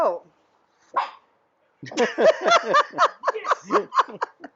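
A dog barks nearby in a rapid run of sharp yips and barks after a couple of isolated sounds, loud and close.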